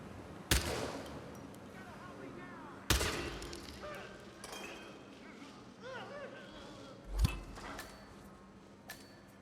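Gunshots in the Hitman 3 video game: three sharp, distinct shots spaced a few seconds apart, fairly faint, amid quieter game ambience and small clicks.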